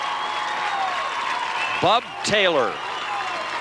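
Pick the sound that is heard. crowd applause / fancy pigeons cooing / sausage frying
crowd applause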